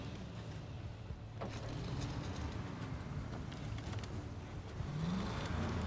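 A truck engine runs in the SnowRunner off-road driving game, a quiet and steady low rumble that holds throughout with a few faint mechanical knocks.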